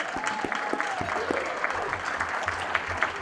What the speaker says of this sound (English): Yes, that deserves a round of applause for sure